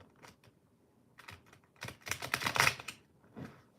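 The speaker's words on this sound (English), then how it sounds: "Shuffle them like a poker player." Tarot cards shuffled poker-style, a series of quick crisp clicks and riffles building into a denser flutter of cards, close and fairly quiet, without speech.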